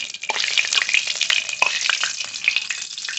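Spices crackling in hot oil left over from frying tilapia and foli fish, a loud close sizzle with rapid pops and spits that stays busy and continuous for a few seconds, no voices.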